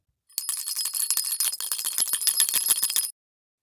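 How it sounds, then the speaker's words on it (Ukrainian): A small bell rings rapidly and continuously for close to three seconds, bright tinkling tones with a steady shimmer. "Правильно граю дзвіночком."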